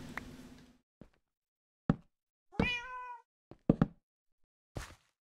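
A cat in the video game Minecraft gives several short meows spread across the clip, with a couple of sharp taps and thuds between them, all close and clear against silence.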